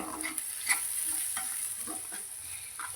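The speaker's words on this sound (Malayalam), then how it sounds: "മല്ലിപ്പൊടി ഒരു ഇത്തിരി ഗരം മസാല ഇതെല്ലാം മിക്സ് ചെയ്ത് ചെറുതായിട്ടൊന്ന് മൂപ്പിച്ചെടുക്കണം" Coriander powder and garam masala stirred and fried in a pan, a soft steady sizzle under scattered scrapes of a spoon, close and fairly quiet.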